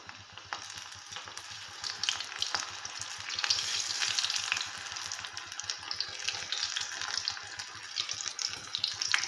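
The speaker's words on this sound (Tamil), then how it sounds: "இப்போது இதை வந்து எண்ணெயில் பொரிச்சிடலாங்க." Fritters frying in hot oil in a kadai give a steady bubbling sizzle with crackling pops throughout, close and moderately loud, building slightly midway, with no talk.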